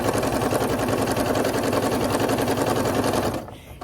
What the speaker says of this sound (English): I'm just going to start stitching the binding down to the front